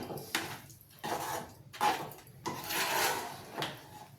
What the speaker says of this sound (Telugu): పిండి బాగా ఉడికేదాకా కలుపుతుండాలంటే అడుగంటకుండా.